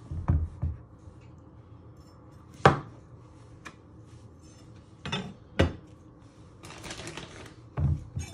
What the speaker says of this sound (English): You first want to chop your ends off.